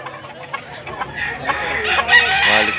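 A large rooster crows amid a busy poultry-selling spot in Tabunok, Cebu, with a muffled crowing call rising toward the end over low background chatter.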